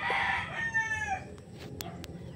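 Gamecock rooster crows once, a close and loud call that tails off, followed by a few sharp clicks and knocks.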